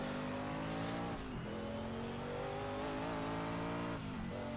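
A Sauber C9 race car in Project CARS screams at high revs, loud and continuous, dipping briefly on two quick gear shifts or lifts before climbing again, with faint tire squeal.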